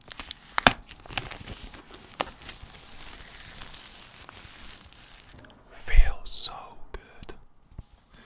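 Packaging of a crypto hardware wallet box, an Ellipal Titan Mini, being cut open with a sharp knife and torn, giving soft close crinkles and tearing with a louder rip near the end, under quiet whispering.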